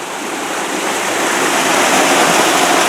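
Water pours steadily down from the top of a structure like a waterfall, a loud, continuous broadband rush that builds slightly and never pauses.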